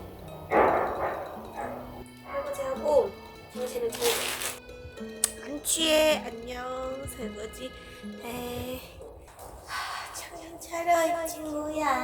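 Dogs bark repeatedly in the distance around an apartment complex near a winter campsite, with scattered yips mixed with people talking and rustling close by.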